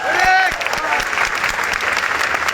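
Dense, steady audience applause at a public speaking event, filling the whole stretch at close range, with a voice briefly heard over the clapping at the start.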